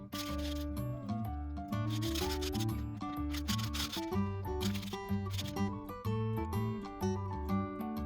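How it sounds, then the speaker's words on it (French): Sandpaper rubbing along threaded steel rods for a 3D printer, cleaning off leftover shavings, heard as repeated scratchy strokes beneath loud, steady background music. "On va poncer, on va enlever les petits copeaux qui restent."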